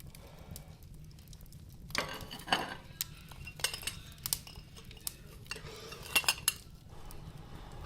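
A metal tool scrapes and clinks against hot coals being scooped out of a fire, with several sharp scraping bursts and gritty rattles over a faint low rumble.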